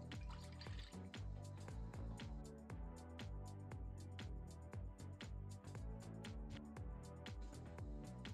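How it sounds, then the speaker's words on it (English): One cup of water is poured into a pot holding dates, a steady close trickle and splash that runs continuously for several seconds with no talk. "I'm going to put the 1 cup of water."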